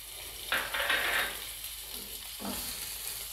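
A small amount of chicken is stirred and fried in a pan over lowered heat for sandwich filling, giving a close, scraping sizzle in two bursts, a longer one early and a shorter one near the end, with a quiet hiss between them.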